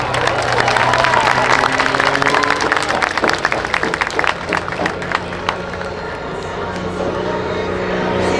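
A crowd at a military air station air show claps in a loose burst that thins out over several seconds, while an announcer talks over a humming engine drone in the background.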